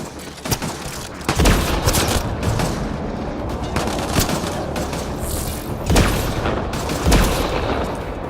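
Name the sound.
gunfire in the video game Mass Effect Andromeda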